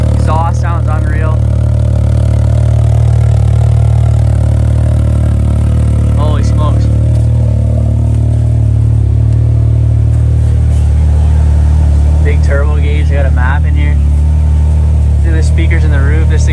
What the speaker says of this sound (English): Exhaust sounds unreal.